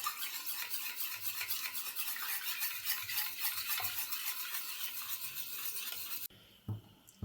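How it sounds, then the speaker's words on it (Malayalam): Eggs and salt are whisked briskly in a bowl until frothy, giving a steady, rhythmic scraping and swishing that continues for several seconds before breaking off into a few softer clinks. "നല്ലപോലെ ഒന്ന് ഇളക്കി പതപ്പിച്ചെടുക്കാം."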